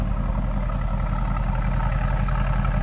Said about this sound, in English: Oh, that exhaust sounds so good.